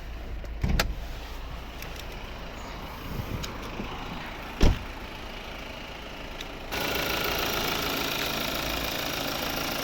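A 2016 Volvo XC60 with a 2.0 D3 diesel engine and automatic gearbox idles with a steady low rumble and a few sharp clicks and knocks; the noise grows louder and fuller near the end.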